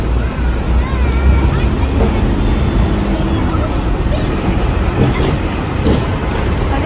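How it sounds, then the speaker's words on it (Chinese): An electric street tram passes on a hot, humid city street, a steady broadband rumble of rolling wheels and traffic noise filling the scene, with faint voices and street babble underneath. "我见到呢架电车好靓啊"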